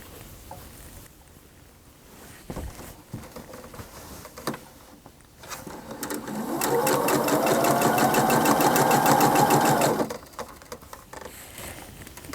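Sewing machine stitching pieced quilt blocks, a loud steady close whir running for about four seconds in the middle, with quieter handling and shuffling of fabric before and after.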